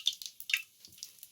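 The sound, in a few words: mustard seeds sizzling in hot oil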